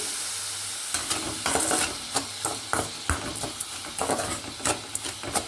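Sugar and water heat in a pan for mango halwa, with sizzling and stirring heard as repeated scraping strokes of a spoon against the pan, close and moderately loud, no speech.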